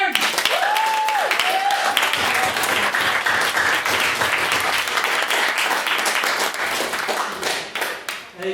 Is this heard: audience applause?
yes